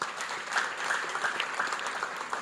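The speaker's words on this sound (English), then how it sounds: "Clap for him." An audience at a management and technology conference claps together, a steady, moderately faint patter of many hands heard from a distance, with no speech.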